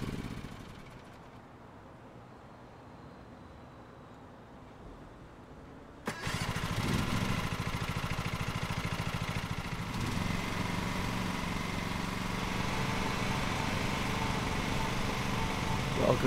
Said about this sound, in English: I think the game might be a little bit loud. I'm going to turn it down with this lawn mowing.